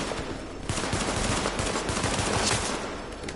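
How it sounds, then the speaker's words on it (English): Rapid pistol fire in the shooter game The Division, with shots cracking out in a fast, steady stream that blends into a dense, continuous volley at close range, loud and without speech. "Fun thing about the pistol is that you can shoot it about as fast as you can shoot it"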